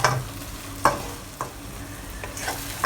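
Eggs scrambling in a pan over medium heat, with a steady sizzle and a few sharp scrapes as a utensil stirs them around. No one speaks.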